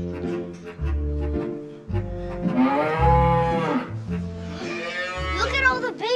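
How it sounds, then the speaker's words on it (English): Calves and cows on a farm moo in repeated low, drawn-out calls, close and fairly loud, alternating with bright harmonic vocal sounds and brief moments of activity. "Look at all the baby cows!"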